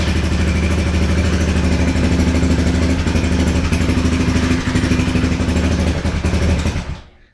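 A Honda CG Titan motorcycle engine idles steadily and close after a carburetor mixture adjustment, a loud even putter with slight mechanical clatter, running alone before cutting off at the end.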